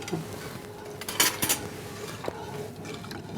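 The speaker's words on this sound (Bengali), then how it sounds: "আমি দুই টেবিল চামচ চিনি দিয়ে আমি নাড়ছি" A spoon stirs sugar into milk in a pot over medium heat, giving a few light metallic scrapes and clinks against the pot over a low background hum.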